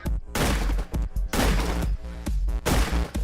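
Video game gunfire comes in three loud, dense bursts of rapid shots, each lasting about half a second with brief pauses between, close and with no talking.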